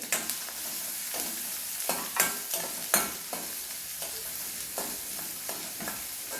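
A chopped medium-sized onion fries in a pan over raised heat. A steady crackling sizzle runs throughout, broken by irregular scraping stir strokes, close and fairly loud, with no voices.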